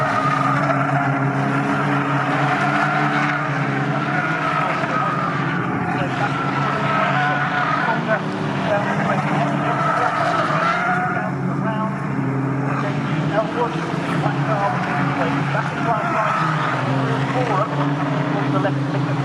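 Caterham Sigma race cars roar along the Bentley Straight at Snetterton circuit in a steady, loud engine drone with tyre noise, running continuously under excited race commentary.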